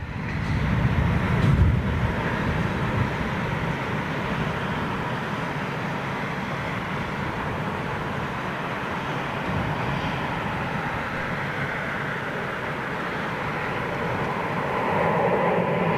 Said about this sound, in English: here comes the Perth-bound non-stop Dreamliner service with Qantas